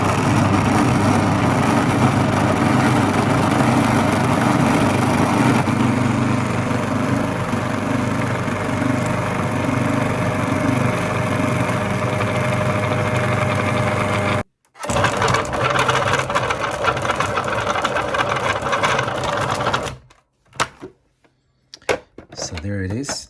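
A stand mixer kneads pizza dough for a calzone, a steady motor whir running continuously for about fifteen seconds before a brief stop, then resuming with short, choppy bursts and pauses toward the end.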